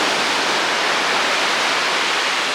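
Loud, steady rushing of rough sea water at a black-sand beach in Bali, a broad continuous roar of waves churning close by with no pauses.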